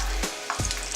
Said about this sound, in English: already started frying up our arancini